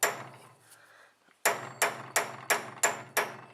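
A big socket struck repeatedly with a punch or chisel to drive out a C4 Corvette spindle support rod bushing: a brief sharp knock, a pause, then five loud metallic hammer blows in steady rhythm, close and alone.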